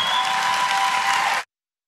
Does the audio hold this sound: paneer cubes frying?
no